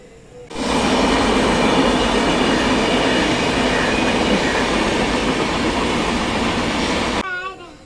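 A passing train roars by close and loud for about seven seconds, a dense steady rush of wheels and carriages that starts abruptly and cuts off, with faint background sound before and after.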